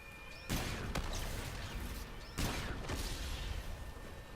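Weapon fire in Call of Duty WWII, two sharp broadband blasts about two seconds apart over a dense, noisy battle bed, with smaller thuds between them; the separate rounds of a three-shot burst are not clearly resolved.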